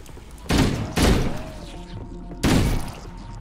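Three sharp, loud bursts of gunfire crack out, spaced apart, in Halo: Combat Evolved, with a low rumbling game soundscape and faint tonal sounds continuing between them.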